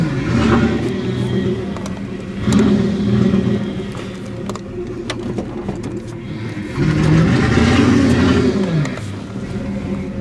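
An old car with failing power steering drives along, engine humming and swelling in revs with a few sharp knocks and rattles, loud and close throughout.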